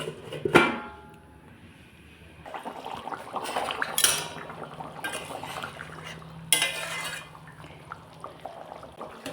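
A lid is set on a cooking pot of simmering curry: sharp metal clinks and clanks at intervals over a quiet, faintly bubbling kitchen background, with no talking.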